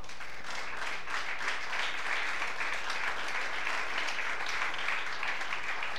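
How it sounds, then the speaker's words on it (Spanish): A church congregation applauds during a sermon, a steady wash of many hands clapping at moderate level that swells in after a quiet start and holds evenly throughout. "Denle un fuerte aplauso por eso"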